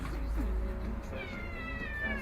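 A cat meows loudly and close by, a drawn-out, wavering cry that rises in pitch toward the end over a low steady hum.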